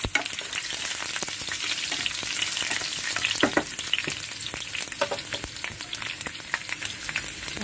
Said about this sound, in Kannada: ನೋಡಿ, ಸಾಸಿವೆ ಸಂಪೂರ್ಣ ಸಿಡಿದಿದೆ. ಈಗ ನಾನು ಬೆಳ್ಳುಳ್ಳಿ ಹಾಕ್ತಾ ಇದ್ದೀನಿ.